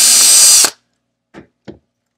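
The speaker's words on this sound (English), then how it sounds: "So the first thing you want to do is just drill a hole." A power drill bores a hole for a quieter Eheim canister filter pump, a loud steady whine lasting under a second, then two short faint knocks or taps afterward with no talk.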